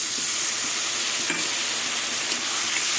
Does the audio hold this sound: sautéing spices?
yes